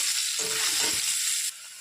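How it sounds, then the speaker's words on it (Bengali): Potatoes fry in hot oil with turmeric, giving a steady, close sizzling hiss that drops quieter near the end. "দেখো আলুটা প্রায় ভাজা হয়ে গেছে।"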